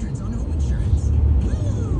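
A new Ram pickup truck drives past outdoors near a dry river in Wickenburg, Arizona, its low engine rumble steady and fairly loud for about two seconds.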